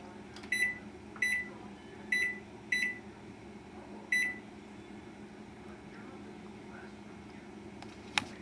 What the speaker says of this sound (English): I'm going to set the timer for 1 hour and see what happens